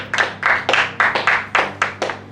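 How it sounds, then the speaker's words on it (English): A small audience at a cowpea farming event claps for a member of a breeding program team, about nine distinct claps in a steady rhythm, close and fairly loud over faint background hum. "Please, a round of applause for him as well."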